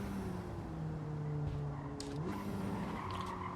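Porsche Cup race car in a racing video game braking hard into a corner with heavy understeer, a steady engine drone shifting pitch alongside sustained tire squeal and scrubbing.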